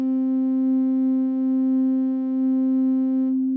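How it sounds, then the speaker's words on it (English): A steady square wave tone from a VCV Rack software synthesizer drones at a single pitch, buzzy and continuous, then cuts off abruptly at the end. "you've pretty much got a pure square wave there"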